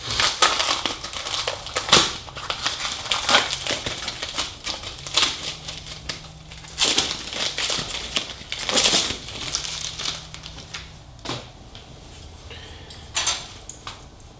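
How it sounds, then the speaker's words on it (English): Protective coating being peeled and unwrapped from Harley-Davidson Milwaukee-Eight exhaust heat shields, a close run of crinkling, crackling and tearing bursts with pauses between them, plus the odd light metallic tap. "Have to unwrap the protective coating very carefully off of the heat shields"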